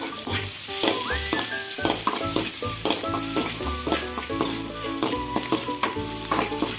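Crushed garlic and ground pepper being stirred in hot oil in a frying pan, with a steady close sizzle broken by repeated scraping strokes of a spoon across the pan, no voices.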